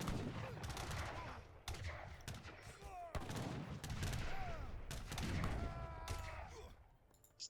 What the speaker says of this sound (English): I just love the heavy cannon sound effect.